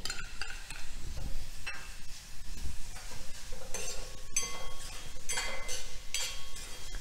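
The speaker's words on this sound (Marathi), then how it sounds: "तूप कोमट झालं की त्यामध्ये ओलं खोबरं थोडंसं भाजून घ्यायचं।" Grated fresh coconut roasts in warm ghee in a pan, a soft sizzle under repeated spoon scrapes and light metallic clinks against the pan, close and fairly loud.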